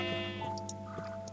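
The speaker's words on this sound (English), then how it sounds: "And still plenty of sheep around." Sheep bleat in Minecraft, a short wavering tone over steady game background sounds, with a few faint clicks afterward.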